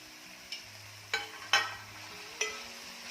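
Chopped fenugreek leaves being stirred with lentils in a pan, a few distinct spoon scrapes and clinks over a quiet low sizzle, spaced irregularly and heard close without talk.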